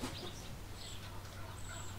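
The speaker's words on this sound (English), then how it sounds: "the soundscape recording will capture the sound of various birds, wild and domestic, up close and personal in their breeding territory" Domestic chickens cluck softly inside a farm barn, a quiet, close, continuous low murmur of fowl calls over a steady background hum, with faint wild bird calls mixed in.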